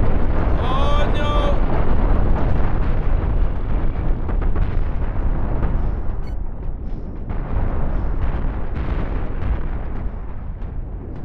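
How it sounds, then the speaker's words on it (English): Flak cannons fire in the Cosmoteer space game in a dense run of booming blasts and explosions, loud and rumbling throughout, with a brief tonal chirp near the start. "See a lot of our flak being shot."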